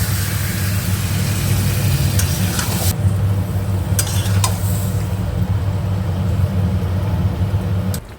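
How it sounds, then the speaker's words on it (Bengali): Potatoes fry in oil in a pan while biryani is cooked at home, making a loud, steady sizzle with a low rumble beneath and a few sharp clinks of a utensil against the pan. "এদিকে আলু ভাজা হচ্ছে"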